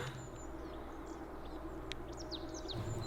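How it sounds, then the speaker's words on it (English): Small birds, smaller than a palm, chirp in quick, high tweets and short trills, scattered and fairly distant over a steady low background hum, in Germany. "And there are these tiny birds."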